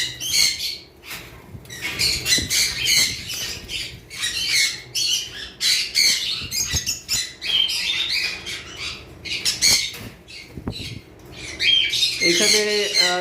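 Shrill, repeated squawks of sun conure parrots, loud and close, coming in bursts throughout with a few chirps mixed in.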